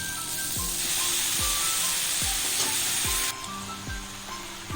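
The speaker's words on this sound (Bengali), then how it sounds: "ভালো করে মশলাটার সঙ্গে কপিটাকে ভালোভাবে একটু কষিয়ে নেব" Boiled cabbage stir-fried with spices in a pan, a steady sizzle under repeated low scraping strokes of a spatula about every second, close and fairly loud, no voices.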